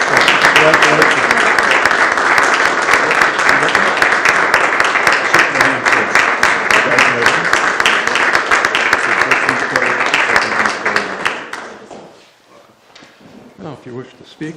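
Sustained audience applause at a city council meeting honoring the Volunteer of the Year: dense, loud clapping from a full room that carries for about eleven seconds before dying away into a few scattered claps and murmurs.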